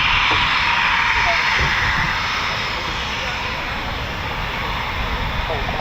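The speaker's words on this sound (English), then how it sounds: "This is the spare display aircraft, ZJ917." A Eurofighter Typhoon FGR4 jet at RAF Coningsby roars as a broad, steady engine rush, loud and sustained throughout.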